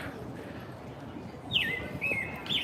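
A bird sings a few clear, bright whistled phrases outdoors during a morning walk in Annapolis, heard near over a steady background of street and town ambience.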